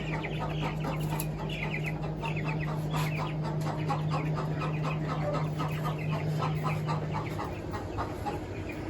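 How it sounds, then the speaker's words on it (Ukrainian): Broiler chickens clucking steadily inside a warm farm shed, a dense flock chorus with overlapping near and distant clucks and a constant low hum running underneath. "Це наші бройлери, але все добре. Їдять, п'ють."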